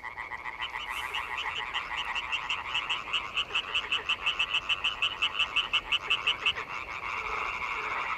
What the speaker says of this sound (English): The vocalizations of the males then mix in a great polyphonic chorus of amphibians who sing at night until the morning.